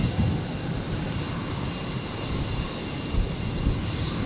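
A Virgin Boeing 737-700 jet rolls for takeoff on a stormy night at Brisbane International Airport, its engines a dense, steady roar that stays loud and continuous, with no voices.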